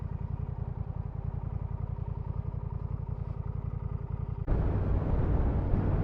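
Honda CMX1100 Rebel motorcycle cruising in 4th gear at about 30 mph, a steady rhythmic engine pulse heard close, then a sudden jump to louder rushing wind and engine roar near the end.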